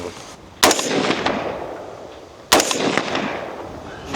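Two sharp, loud gunshots during shooting practice, a couple of seconds apart, each followed by a long echoing tail.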